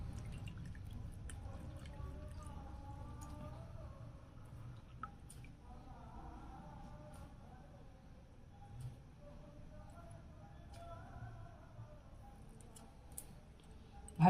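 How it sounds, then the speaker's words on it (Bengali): Water drips and squishes from a soaked cotton cloth being wrung out in a home kitchen, small scattered taps and trickles, faint and close, with a quiet voice in the background. "এই কাপড়টা আমি নিগড়ে তুলে নেব"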